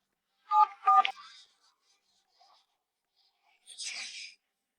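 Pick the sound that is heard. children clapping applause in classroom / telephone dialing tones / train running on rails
telephone dialing tones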